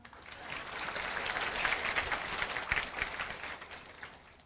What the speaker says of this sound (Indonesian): Nah, gitu, kasih tepuk tangan.